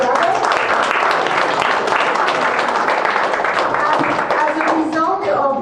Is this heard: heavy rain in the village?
no